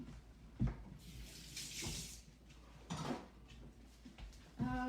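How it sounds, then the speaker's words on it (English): Hands washed under a running kitchen tap: a low, soft flow of water with several brief splashes and knocks close by, and no speech. "Wash my hand."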